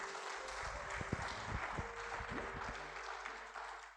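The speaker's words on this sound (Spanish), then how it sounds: "Dale un aplauso al Señor, hermano querido." A church congregation applauds during a sermon, a faint, distant patter of clapping with scattered low thumps, quiet and steady throughout.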